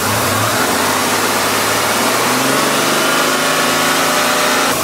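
A car engine held at a steady 1500 to 2000 RPM while warming up during cooling-system bleeding, a loud, continuous hum with the pitch creeping gradually upward, close to the microphone and alone without talk.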